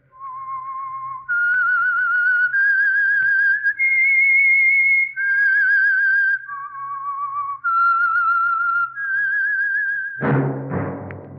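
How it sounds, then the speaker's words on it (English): A whistled theme signal for The Whistler radio program: a lone melodic whistle stepping through a series of sustained notes, loud and close, ending in a sudden burst of orchestral music. "That whistle is your signal for the Signal Oil Program, The Whistler."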